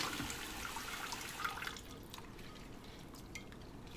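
Tap water running steadily into a bowl of sea moss being rinsed, a continuous close splashing fill with a brief louder burst near the middle, alone without talk.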